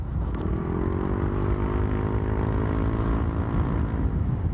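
Yamaha Aerox scooter with a ROB1 aftermarket muffler, its exhaust droning in a steady, loud, close-up rumble that rises gradually in pitch as the engine revs over several seconds, with no talk.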